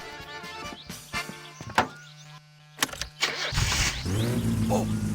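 A car engine cranking and starting in a car-repair game after a broken part is replaced, with a few thunks and clicks before the motor catches and settles into a loud, steady idle.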